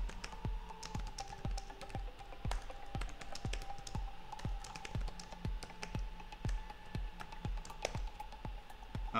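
Steady typing on a computer keyboard, a continuous run of light, evenly spaced key taps heard up close in a quiet room with no one talking.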